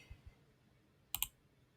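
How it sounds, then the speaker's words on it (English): Two quick mouse clicks on a Try button, sharp and close, with a soft low thump just before them, otherwise quiet. "I'll just click on try"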